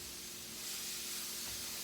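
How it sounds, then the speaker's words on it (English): Steam hisses steadily from a hot pan with oil on a kitchen stove element, a continuous broadband close hiss throughout. "we're just going to give that a little steam on the pan and just kind of let the oil mix in there"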